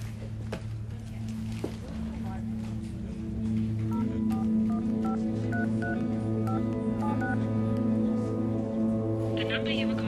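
Telephone number dialed, a quick series of touch-tone beeps in an irregular rhythm over a low background hum, fairly clear and close.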